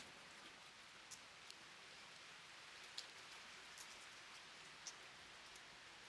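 Rain falling in Bali, a steady hiss of drops hitting surfaces with a few brief louder patters, fairly faint and continuous with no voices.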